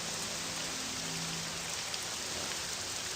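Steady rain falls in the Balmora area of The Elder Scrolls III: Morrowind, a constant hiss of drops spread evenly through the clip with no voices, even and moderately loud.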